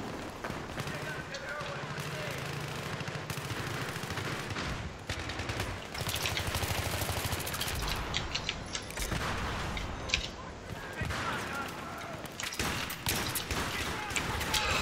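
Battlefield 3 video game combat: rapid bursts of automatic gunfire and scattered single shots rattle repeatedly at moderate distance, mixed with game effects, while a player talks over the action.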